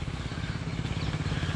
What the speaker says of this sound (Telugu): ఇదిగోండి చేను దున్నే ట్రాక్టర్ అన్నమాట.